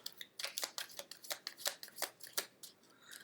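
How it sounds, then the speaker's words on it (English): Tarot cards being shuffled by hand, a quiet, close series of crisp riffling flutters and soft slaps in an uneven rhythm, with no talk over them. "I typically shuffle the cards 3 times"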